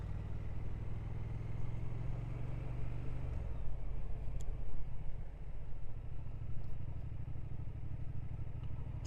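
Triumph Speed Twin 1200 motorcycle engine on a 2025 model, throbbing with a deep, steady, tractor-like rumble close by, with rising clatter through the ride and no talk.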